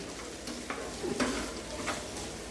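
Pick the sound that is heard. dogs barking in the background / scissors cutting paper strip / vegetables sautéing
vegetables sautéing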